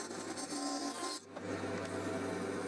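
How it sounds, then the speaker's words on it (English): Close, steady rasping and scraping comes from shaping a wooden ukulele fretboard to the width of the neck. The strokes run continuously with a brief pause near the middle. "I could then cut out the rest of the shape of the fretboard to the size of the neck."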